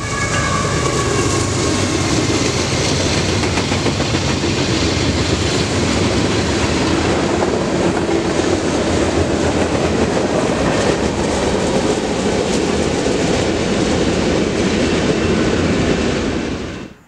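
A northbound freight train passes led by a Dash-9 locomotive in H1-9 paint, number 1123, a loud steady rumble and rail clatter filling the whole stretch close by, with no voices.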